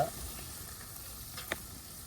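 Tomatoes sautéing in a pan for a Madurai village-style country chicken curry give a soft, faint frying hiss with a light scrape of stirring, brief and quiet.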